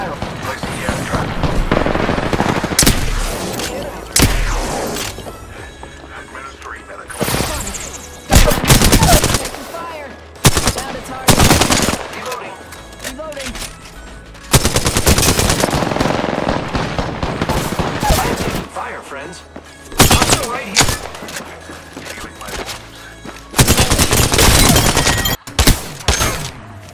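Bursts of automatic and single-shot gunfire from the Apex Legends battle royale video game, loud and dense, firing in repeated volleys with short pauses between them throughout.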